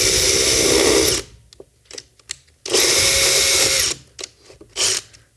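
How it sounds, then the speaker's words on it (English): A power drill boring a hole for a zip tie anchor during electronics installation, two loud sustained whirring bursts of about a second each separated by quiet handling clicks and taps. "It's a little hard to drill here."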